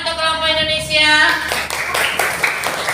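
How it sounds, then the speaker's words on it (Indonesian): Classroom students applauding a group of classmates, steady clapping that follows a brief sustained tone and continues to the end, moderately loud and close. "Tepuk tangan untuk kelompok Indonesia."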